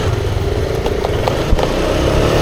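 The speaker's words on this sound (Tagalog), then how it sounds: "Nag-i-skid yung motor!" A motorcycle loses grip and skids while heading downhill, with a loud, close, steady engine drone running throughout and short rough bursts of scraping over it.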